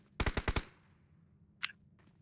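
Video game gunshots: a quick burst of about five sharp shots in a row, followed a second later by two fainter single reports, with no talking.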